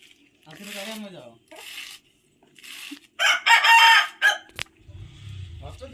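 A chicken clucks and squawks loudly up close in several short bursts, ending with a thud and low rustling.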